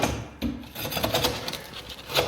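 A blade scraping and rasping debris out from under ceiling timber during repair of a water-damaged ceiling, a close, continuous gritty rubbing with a few sharper strokes.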